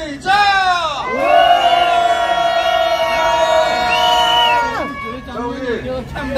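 A large rally crowd outside a residence in Hannam-dong roars and cheers in one long sustained shout, loud and close, rising sharply, holding for several seconds, then breaking off into scattered voices.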